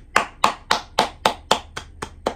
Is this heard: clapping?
yes